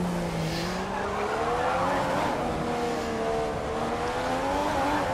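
Formula 1 car in the F1 2015 video game at Monaco, the engine whining continuously as it eases off under braking and then climbs back to full throttle, with faint tire squeal mixed in.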